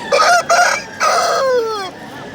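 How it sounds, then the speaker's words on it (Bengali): Loud, close crowing from a desi rooster at a busy chicken market, several strained harmonic bursts ending in a long falling note, with little other noise around it. "দেশি মোরগ বিদেশি"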